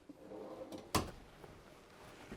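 A long cabinet drawer in the kitchen of a 2026 KZ Accelerate 21A toy hauler travel trailer slides with a soft rumble, then shuts with one sharp, close clack, followed by quiet room tone and no speech.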